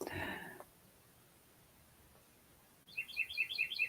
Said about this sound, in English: there's the cardinal singing